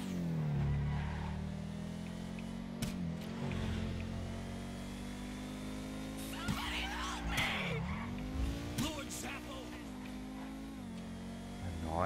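Osiris supercar in GTA V racing at high speed, a steady engine drone with a rising supercharger whine over several seconds, loud and close, with a sharp swoop near the middle as the car brakes and accelerates.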